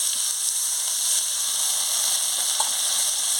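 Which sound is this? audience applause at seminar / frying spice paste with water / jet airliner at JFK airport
frying spice paste with water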